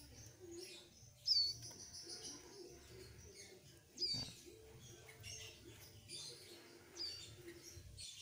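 A hand-fed baby cigun bird gives three short, sharp chirps spaced a few seconds apart, close by, over low background rustling and handling noise.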